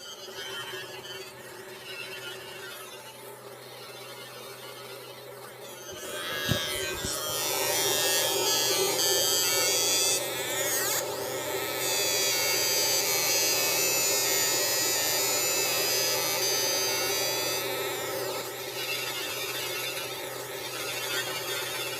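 A Monport GA60 fiber laser engraves a logo at raised power over two passes, giving a steady electric buzz with a faint whine. A brief click is followed by a louder, sustained hum that continues evenly at close range.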